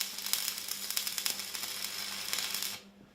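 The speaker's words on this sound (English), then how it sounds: "I'm just going to quickly weld this lot together." Steel frame for a garden grill being welded, a steady close crackling sizzle with dense sputtering bursts throughout, cutting off sharply near the end.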